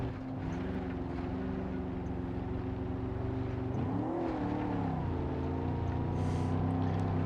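Strained engine drone of an overheated Gavril Bluebuck car in BeamNG.drive, a steady loud hum with a brief dip and pitch wobble midway before settling back into a continuous labored tone.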